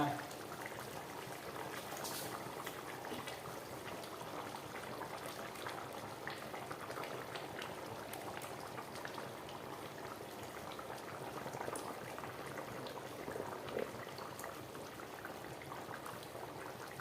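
A roasted-coconut chicken curry with potatoes simmers in a pot, giving off a steady, soft bubbling hiss that stays even and close throughout.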